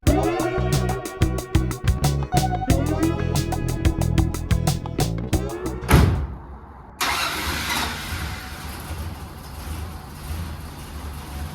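A 1968 Dodge Dart engine cranks in a rapid series of starter chugs, catches, and settles into a steady rumbling idle as it warms up, close by with no talk.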